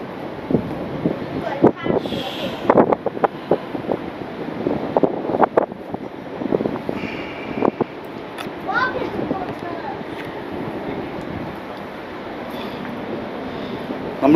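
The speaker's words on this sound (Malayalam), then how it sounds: "അപ്പോൾ ഭയങ್കര കാറ്റ് വേറെ, അതിൻ്റെ ഒരു പ്രശ്നം വേറെ ഉണ്ട്. നല്ല കാറ്റാണ് ഇതിൻ്റെ മേലെ നിന്ന് കഴിഞ്ഞാൽ." Strong wind buffets the microphone on a 149 m high glass bridge at a skyscraper in Malaysia. The gusty, rumbling roar continues throughout while people talk nearby.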